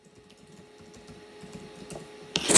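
Quick, light keystrokes tapping out a password on a computer keyboard, an even run of close clicks ending in a louder burst of key noise.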